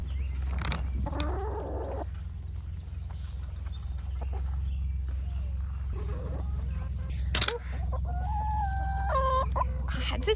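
Chickens cluck and squawk in irregular bursts close by, over a constant low hum, with one sharp louder squawk midway.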